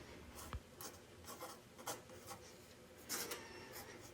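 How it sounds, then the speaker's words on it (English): Pencil marking wooden bifold door parts by hand, heard as a string of short, faint scratchy strokes spaced unevenly over a quiet background. "I want to mark each part carefully so I don't mismatch any parts during the glue up."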